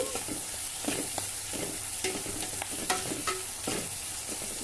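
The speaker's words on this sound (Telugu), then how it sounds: "బాగా ఎర్రగా వేగనిద్దాము అని బాగా వేగిపోయాయి" Ingredients for a Nellore-style brinjal and dried fish curry sizzle in a pan, cooked until well reddened. Steady close frying crackle runs throughout, with repeated scraping stirs and clinks of the spoon and no talk.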